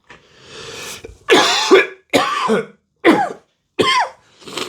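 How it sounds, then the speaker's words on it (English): Coughing caused by acid reflux, a close, loud series of about five harsh coughs and throat-clearing bursts separated by short pauses, with no words spoken. "I'm coughing"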